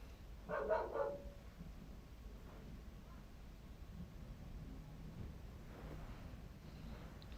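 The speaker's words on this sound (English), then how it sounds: "Dogs are barking." A dog barks a few times in quick succession early on, faint and some distance away, then low wind and room noise carry on with no talking.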